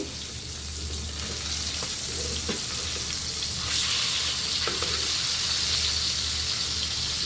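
A fish sizzles and fries in a pan in a home kitchen, a steady, hissing crackle that holds at a moderate level throughout with faint clatter underneath.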